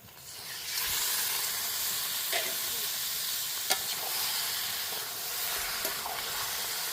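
Native duck meat drops into a fried, oil-glistening spice paste for a picnic duck curry and sizzles loudly and steadily, with a few sharp clicks and stirring scrapes over the hiss.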